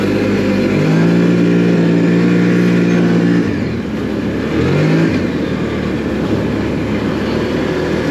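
A 2025 CFMOTO Cforce 800 Touring ATV engine revs loudly up close, holding a high steady drone that bounces off the rev limiter, dips, then climbs again, with no voices.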